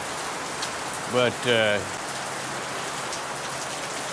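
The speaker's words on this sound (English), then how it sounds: "It's dumping rain." Heavy rain from Typhoon Karding pours down on a house in the Philippines, a dense, constant hiss of downpour on the roof, with a brief spoken word rising over it.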